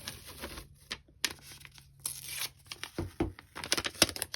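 Regular craft packaging tape is pulled off the roll and torn, giving several loud, close ripping and crinkling bursts with brief pauses between them and no talking.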